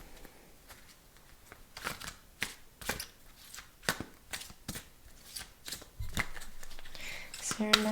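Crystal tarot cards are shuffled in a string of quick, crisp riffles and taps at an uneven rhythm, close and fairly soft, building slightly louder toward the end.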